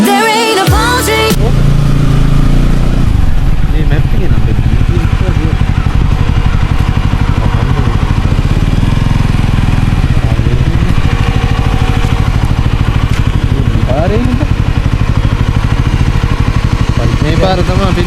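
A motorcycle ridden along a rural road toward Bathalegala rock, its engine chugging steadily and loud nearby for the whole stretch, with a brief burst of other noise at the start and a voice talking over it.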